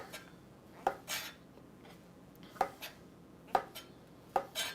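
A knife slices king oyster mushrooms on a cutting board, giving sharp, evenly spaced cuts and scrapes close up, about six strokes with quiet gaps between them.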